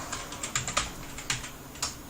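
Keystrokes on a computer keyboard while registering for a YouTube account: about eight separate clicks in an uneven rhythm, close and fairly quiet, with no talking.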